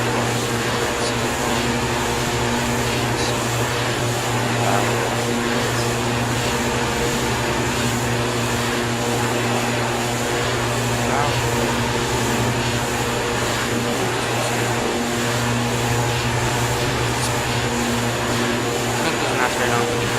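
A steady, loud aircraft engine drone from Microsoft Flight Simulator X plays without a break, a constant propeller-like hum with a high whine layered over it and no change in level.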